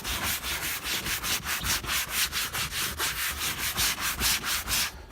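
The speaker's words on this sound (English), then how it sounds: "Now what we're going to do is just give it a rinse. And extra scrub." Stubborn mildew being scrubbed off vinyl boat seats with a brush, in fast, rhythmic back-and-forth strokes, loud and close, continuing without a break.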